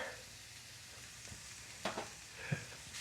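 Seasoned ground meat for sloppy joes browning in a pan, a quiet, steady low sizzle with a few soft spatula taps and scrapes.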